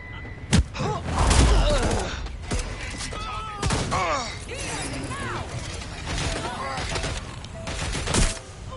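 Gunfire in Watch Dogs Legion crackles in rapid bursts amid mechanical clatter and shattering impacts, loud and close, with voices shouting over the fight.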